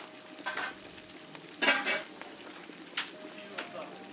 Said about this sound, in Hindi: वाजे ने पानी में हल्दी और इलायची के साथ सब्ज हाक के साबुत पत्ते इन डेगचियों में डालकर देर तक भूना